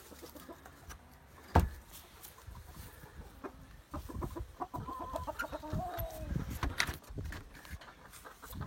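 Americana hens in their coop cluck and murmur repeatedly in short, uneven bursts close by, with a sharp knock early on and faint background voices.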